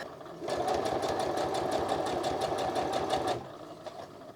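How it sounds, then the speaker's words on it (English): A sewing machine stitches around a pair of handmade overalls in one steady, continuous run of rapid rhythmic needle strokes lasting about three seconds, close and fairly loud, then stops. "I'm going to sew around it"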